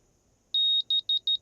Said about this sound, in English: And it'll beep.